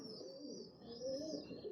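A blue-patterned parrot-faced pigeon gives faint, low rolling coos, quietly and close, over a thin high background hiss.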